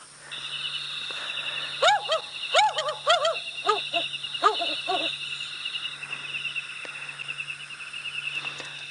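African wood owl call played from a phone at night, a series of rising hoots in a quick rhythmic phrase, moderately clear over a steady chorus of crickets and insects.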